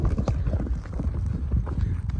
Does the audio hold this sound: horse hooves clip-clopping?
yes